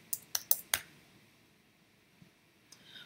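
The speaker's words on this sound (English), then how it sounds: "Let's type good morning." A few quick computer keyboard keystrokes while entering text in Cricut Design Space, four close clicks in a fast burst followed by near silence and one faint later tap.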